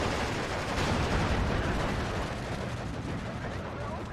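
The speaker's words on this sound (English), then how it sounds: "another bombing strike there, going to be taken out" Bombing strike in a WWII tank strategy game: a continuous dense roar of explosions and rumbling gunfire fills the scene at steady loudness, with a voice talking over it.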